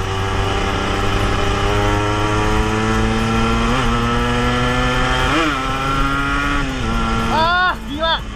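A 1991 Suzuki RG Sprinter motorcycle engine on a test ride in third gear, a loud steady whine close to the microphone with brief pitch dips and rises, and a short voice near the end.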